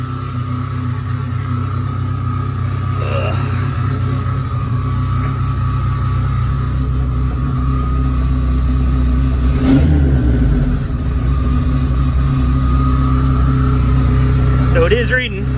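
A Dodge SRT-4 with a G3 Gforce boost controller sits at a high, steady idle with a low engine drone throughout, a brief rev swell near the middle, and a person speaking over it.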